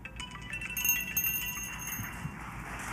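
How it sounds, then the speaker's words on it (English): A timer bell rings at a Michigan District 8 state senate candidates debate, a bright, sustained metallic ring that carries steadily through about three seconds with a faint room murmur beneath it. "that's the nicest bell I've ever heard"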